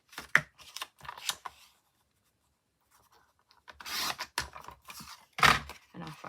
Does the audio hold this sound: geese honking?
no